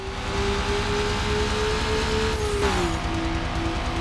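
Honda S2000 engine racing in Need for Speed: Underground, a loud, steady high-revving drone that holds pitch, then drops sharply as it shifts gear, with tire and road noise underneath.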